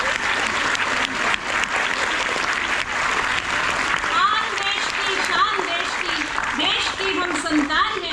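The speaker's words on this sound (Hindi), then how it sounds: "अपने लिए बच्चों तालियां तो बजती हैं।" Audience applauding for children at a kavi sammelan poetry recital event, steady dense clapping throughout with a voice speaking over it.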